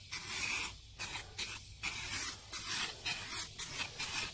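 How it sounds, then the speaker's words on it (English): Bulldog adhesion promoter sprayed from an aerosol can onto a part of a 1994 GMC Stepside pickup during paint prep, heard as a series of short close hissing bursts separated by brief pauses, with no talking. "We're going to use a little bulldog adhesion promoter just to help it out a little bit."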